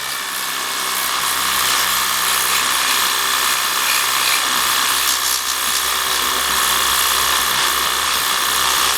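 A Worx Hydroshot pressure washer set to its narrowest jet blasts decking in a garden, giving a loud, steady, hissing spray that runs continuously without a break.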